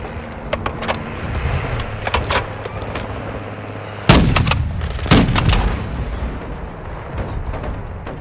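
Call of Duty MW2 Ground War match on Invasion: bursts of rapid gunfire, sharp single reports and heavy booming impacts, loud and close, with scattered quieter shots in between and no talk.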